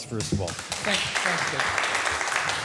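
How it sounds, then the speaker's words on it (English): An audience at a speaker-series talk on iron making applauds the presenter, a broad clapping wash that swells after a short spoken phrase and continues under a voice. "let's give Darrell a big round of applause"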